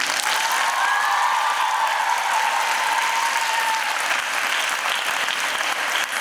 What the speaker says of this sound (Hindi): आज तालियां हमारे इन कलाकारों के लिए।